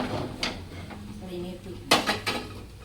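A cooking pot of thick horse gram lentils is handled and set down, with sharp metallic clanks and scrapes around the middle and end over a low steady background; soft talk runs underneath.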